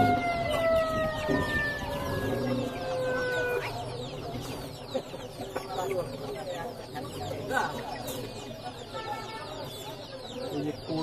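Chickens cluck and squawk amid the crowded bustle of the Mirpur 1 bird market, with several overlapping birds, a siren-like tone early on, and people talking nearby.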